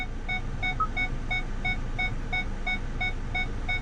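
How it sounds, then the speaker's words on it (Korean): Rapid, steady electronic beeps from a Hyundai Grandeur 2.5 parking sensor repeat at an even pace over a low engine hum. "지금 사물이 가까이 있으면 소리가 일정하게 크게 나는 것도 주차를 할 때 아주 큰 이제 도움이"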